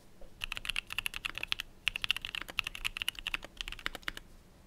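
Continuous fast typing on a custom-built Red D84 keyboard with tactile switches, a dense run of crisp close-up keystrokes with brief pauses between bursts, heard alone without talk.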